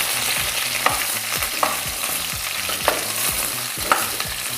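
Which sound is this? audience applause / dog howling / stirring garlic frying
stirring garlic frying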